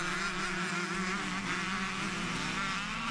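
A Kawasaki KX125 motocross bike racing at a Scottish twinshock and evolution event in Glenfarg, Perthshire: a steady, buzzing two-stroke engine drone held at a constant pitch, heard from a distance without any talk.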